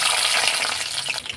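Whole garlic cloves frying in hot mustard oil in a kadai for a prawn curry, giving a steady, close, dense sizzle that holds evenly for the moment with no voices.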